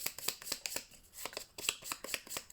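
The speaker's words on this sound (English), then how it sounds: "And then shuffle my deck." A deck of playing cards being shuffled for a Marvel Champions card game, with repeated short rhythmic riffles and snaps, close and moderately loud, no voices.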